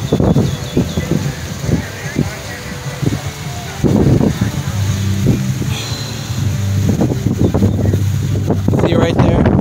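Strong wind buffets the microphone on the beach at Lauderdale-By-The-Sea, gusting loud and rough throughout, with people talking nearby beneath the roar.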